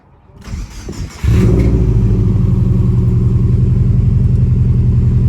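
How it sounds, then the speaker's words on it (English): A Subaru Forester STI tuned to stage 2 plus, fitted with an electronic boost control solenoid, starts up: a brief crank and some clatter, then the engine catches into a loud, steady, close rumbling idle. "Stage 2 plus startup, electronic boost control solenoid."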